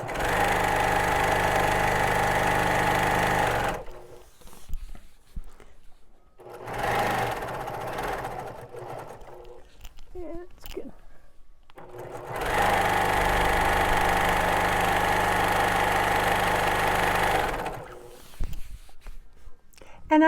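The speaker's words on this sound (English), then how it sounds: "let's go ahead and start to sew" A sewing machine stitches black thread through fabric at about a quarter-inch seam, running in two long continuous bursts with a quieter pause between them where soft talk and handling noises come through.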